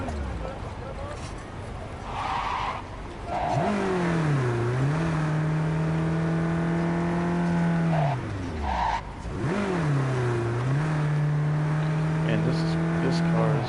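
A car in Cyberpunk 2077 revs and shifts through repeated rising and falling engine pitch sweeps, with brief tire squeal or skid noises, loud and close, while a person talks over it.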